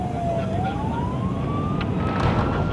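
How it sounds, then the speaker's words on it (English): A police patrol car siren wails steadily, rising slowly in pitch over a loud rumble of engine and road noise while the car races to an emergency call. "Sirens blaring and 160 kilometers per hour."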